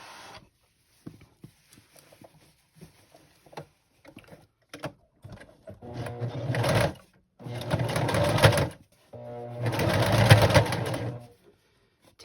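A sewing machine stitches a pillow of printed, waterproofed fabric, running in three close bursts of steady whirring with a brief backstitch, after quiet handling clicks and rustles.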